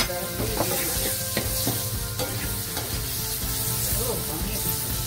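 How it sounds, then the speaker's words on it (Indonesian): Sliced shallots frying in hot margarine in a pan, giving a steady dense sizzle with occasional stirring clinks, fairly close, over a faint tonal background. "Nah, kita masukkan bawang yang sudah diiris."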